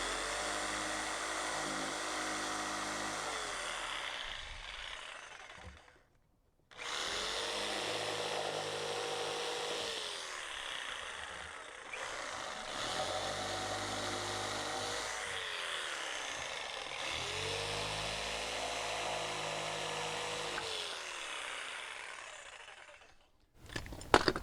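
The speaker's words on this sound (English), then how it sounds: "I'm just going to finish those two out there with the jigsaw, and then I'll just go and cut the whole rest of the stringer out." A jigsaw cuts a wooden deck stair stringer with a long, steady buzzing drone, a brief stop partway through, then continuous cutting until it winds down at the end; close and loud, with no talking.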